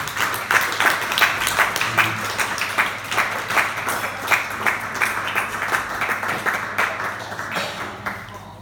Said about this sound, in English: So keep clapping going for Jack